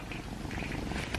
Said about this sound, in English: Oh, purr.